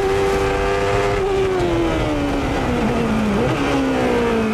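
A 1993 CART race car engine screams under load on the uphill run at Laguna Seca, its high tonal note held at steady revs then sagging slightly, loud and close throughout with no talking.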